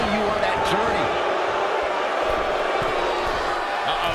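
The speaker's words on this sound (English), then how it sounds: "you hear this capacity crowd following you on that journey" Capacity crowd at a pro wrestling match roars steadily throughout, a dense, loud wall of cheering with commentary talk over it.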